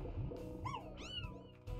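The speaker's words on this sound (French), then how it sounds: "J'entends un chat." Cat meows from the video game Slime Rancher, two or three short rising-falling cries over a steady bed of game music and background noise.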